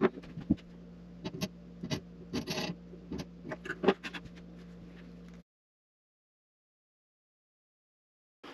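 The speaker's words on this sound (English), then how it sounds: "going back to the chisel, cutting off a little bit more" Chisel shaving wood along the purfling channel on the side of a handmade acoustic guitar body, a series of short scraping and cutting strokes close by, then silence after about five seconds.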